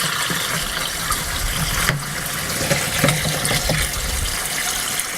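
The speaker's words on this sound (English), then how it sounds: "we take a water hose, and we put it in the bucket and turn it on." A water hose runs full into a bucket while a CAT C18 marine engine is flushed with a Barnacle Buster cleaning setup, giving a steady, close, hissing gush with a few light knocks and no talk.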